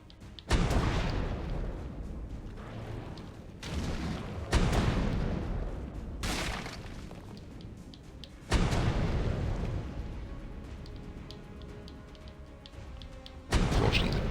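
Cannon fire in the survival game ARK booms out four times at irregular intervals, each heavy blast trailing into a long rumbling decay, fairly distant and with no talk over it.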